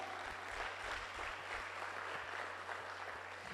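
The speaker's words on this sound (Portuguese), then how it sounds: "quem crê, aplauda o Senhor bem forte" Church congregation applauding during a sermon, dense continuous clapping heard from a distance, faint with low hum underneath.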